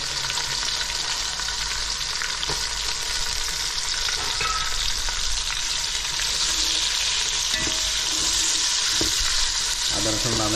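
Ginger, garlic and onion fry in hot oil for chicken biryani, giving a loud, steady close-up sizzle that runs the whole time, with occasional stirring scrapes and utensil knocks.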